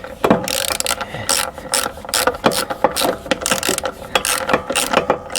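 A hand ratchet tightening a bolt on the idler pulley of a Toro TimeMaster mower, with close, loud bursts of clicking pawl strokes in an uneven rhythm.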